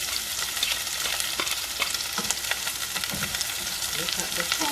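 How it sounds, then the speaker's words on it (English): Vegetables frying in hot oil for escovitch fish, a close, continuous sizzle with dense crackling and stirring clatter, no talking. "I'm putting my vegetables into the oil"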